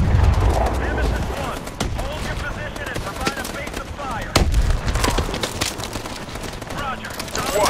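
Rapid suppressing gunfire in Call of Duty: Advanced Warfare, a dense stream of close, sharp shots and bursts running throughout, with radio-style voices talking over the firefight.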